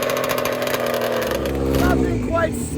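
A vintage two-stroke drag bike engine at a two-stroke racing event buzzes loudly and close, rising in pitch as it revs, with rapid pulsing and brief whining climbs toward the end.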